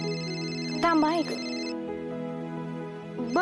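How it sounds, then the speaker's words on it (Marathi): A phone ringtone plays a steady tonal melody indoors while a voice speaks over it in short phrases. "भक्तीचा फोन आहे."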